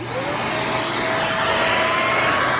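A Shark Performance Lift-Away upright vacuum cleaner runs steadily and loudly on carpet nearby, its motor whine rising slightly in pitch, with no voices.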